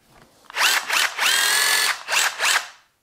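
A cordless drill fitted with a DeWalt DT7062 sheet-metal shear attachment cuts through sheet metal in several loud, close bursts of high whirring and grinding, with short pauses between them and no voices.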